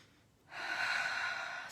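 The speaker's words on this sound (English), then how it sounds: "Take a breath." A single deep, drawn-out breath, heard close and alone as a steady airy rush after a brief quiet start.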